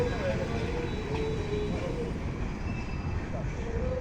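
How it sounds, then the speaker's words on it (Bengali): A steady, heavy rumble of the Tista train departing Joydebpur station, loud and close, with a faint tonal whine and some background voices. "এখন চলে গেল তিস্তা ট্রেনটি"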